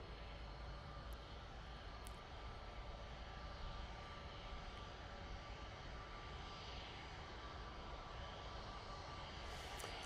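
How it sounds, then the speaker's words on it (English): An Airbus A321neo airliner on approach, a faint, distant, steady engine rumble and broad hiss that holds at one level throughout, no voices. "A321neo coming on in front of us."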